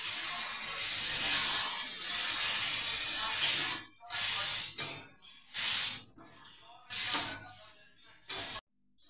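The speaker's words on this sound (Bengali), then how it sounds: "কষানো হয়ে গেছে, এবার জলটা দিয়ে দেবো।" Water poured into a pan of frying fish curry makes a loud, sustained hiss of steam and sizzle that then breaks into several shorter bursts with brief gaps between them.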